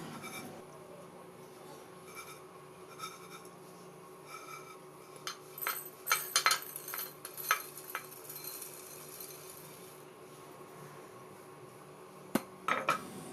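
Crispy fried poha is scraped from a pan into a vessel, with close, scattered metallic clinks and scrapes of a spoon against the cookware, louder in the middle stretch and one sharp knock near the end.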